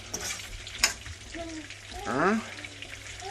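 Shrimp cooks gently in garlic butter over low heat, a soft crackling sizzle under brief scraping stirs, with a short clatter near the middle; no one speaks.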